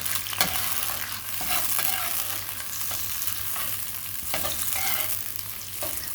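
Onions cut into wedges fry in oil for Delhi biryani, a loud continuous sizzle with repeated scraping stirs of a spoon against the pan, near and steady throughout.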